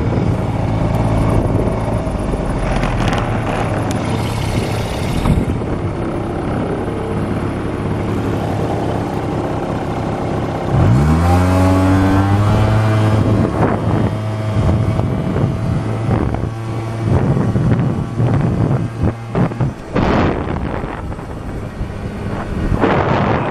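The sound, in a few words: Airsal Sport 70cc scooter riding at speed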